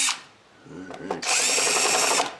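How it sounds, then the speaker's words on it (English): A power drill with a 1/2-inch bit bores a hole during a Land Rover Defender light install, spinning up after a brief pause into a loud, steady high whine that runs close to the end. "Let's go to a 1/2-inch drill."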